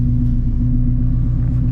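Shelby GT350 fitted with long tube headers, running on E85, giving a deep throbbing engine rumble under hard acceleration, loud and steady from inside the car for a brief moment.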